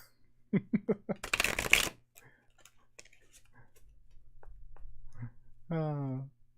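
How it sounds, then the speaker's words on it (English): Tarot cards are riffled and shuffled up close, with quick ticking flicks followed by a dense burst of snapping cards, then quiet handling and a short voice. "I'm trying to shuffle."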